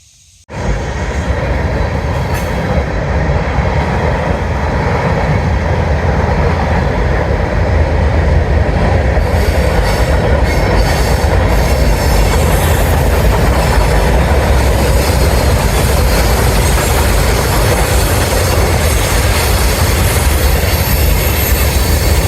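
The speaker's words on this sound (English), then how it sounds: "the train's a little noisy" A loud train passes close by a trail campsite near Harpers Ferry, a continuous heavy rumble with rolling wheel noise and faint squeal that fills the whole stretch, with no talk.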